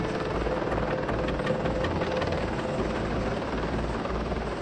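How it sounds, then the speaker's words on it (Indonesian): A CH-53 Super Stallion heavy transport helicopter with three turboshaft engines roars continuously nearby, its thudding rotor and turbine whine steady and loud throughout. "Super Stallion adalah helikopter angkut berat dengan 3 mesin turboshaft."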